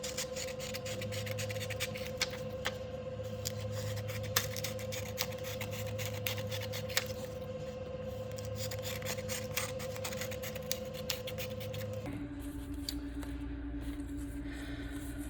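Scissors cutting paper strips, a long run of quiet, irregular snips and rustles over a steady hum that shifts partway through.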